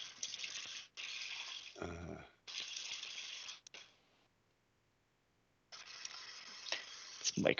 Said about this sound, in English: I just got the faucet running